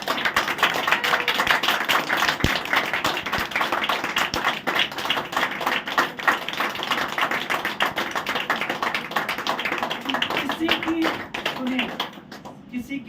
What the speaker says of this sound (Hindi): किसी की ताली